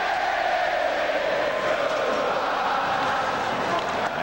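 A hockey arena crowd at a Devils–Islanders game chants a song, a dense, loud, sustained roar of many voices filling the building.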